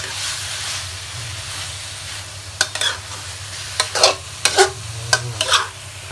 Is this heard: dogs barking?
no